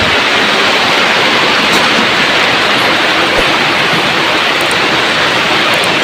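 Heavy village rain pours down in a dense, loud, unbroken roar that stays constant throughout, with no voices over it.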